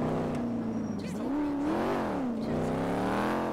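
Car engines revving during a street race in GTA 5, a sustained engine tone rising and falling in pitch with several revs, moderately loud and continuous.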